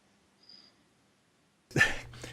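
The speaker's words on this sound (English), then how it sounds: "I sneezed." A single sudden, forceful sneeze bursts out after a quiet stretch, loud and close, with a short breathy tail.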